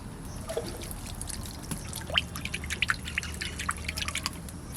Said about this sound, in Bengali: এবার তেল দিয়ে দেবো।